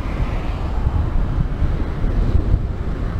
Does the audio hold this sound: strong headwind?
yes